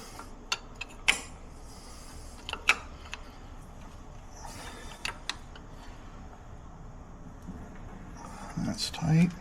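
Bolts being cranked back down on a Ferguson tractor engine: a string of sharp metallic ratchet clicks and creaks at close range, spaced irregularly, with louder clanks near the end over a low background hum.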